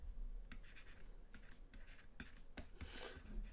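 Soft scratchy strokes of handwriting on paper while writing out a statistics calculation, faint and close, with short irregular bursts and brief pauses between marks.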